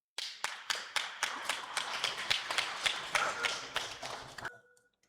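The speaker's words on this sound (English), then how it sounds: "Big round of applause for her, please." Audience applause greeting the fourth-place finisher at a shooting tournament, a run of fairly near claps in steady rhythm that thins out and stops after about four and a half seconds.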